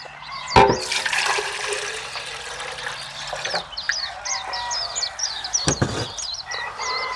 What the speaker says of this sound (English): I'll put half of this water in.